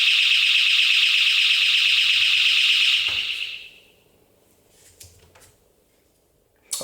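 A prototype RF door-handle sensor sets off a loud, steady electronic alarm tone that holds for about three seconds, then cuts out into quiet with a few faint clicks and a sharp knock at the end.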